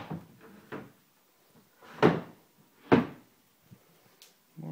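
Drawers or cupboard doors in an empty room open and close with a few distinct wooden knocks and slides, spaced about a second apart, close up with quiet gaps between.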